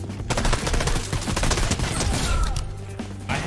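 Rapid automatic pistol fire in Fortnite, a dense loud stream of shots that rattles on almost continuously, with brief pauses between bursts.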